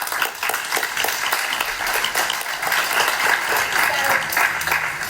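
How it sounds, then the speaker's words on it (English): Audience members at a Volunteer Centre Manchester gathering applaud one another, a loud, dense, steady clapping from a packed room that carries evenly throughout with no talk. "let's just give each other a round of applause"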